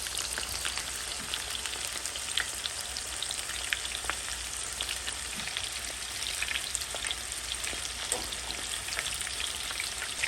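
Coconut-coated shrimp fry in hot oil for about two minutes, giving a steady, dense sizzle and crackle that holds without a break, close and fairly loud, with no voices over it.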